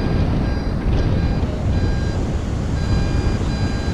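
Whites metal detector beeping over a penny on St. Augustine Beach, a faint, wavering electronic tone repeating in short beeps above loud, steady wind rumble and surf.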